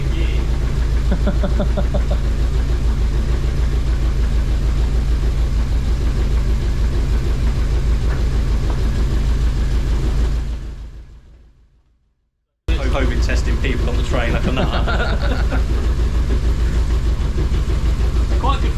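An older car's engine idling, a loud close steady rumble with rhythmic knocking pulses and people talking over it; the sound fades out and cuts off, then resumes just as loud.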